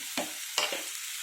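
Sliced onions and green chillies frying in hot oil for egg bhurji, a soft sizzle with a couple of brief stirring scrapes.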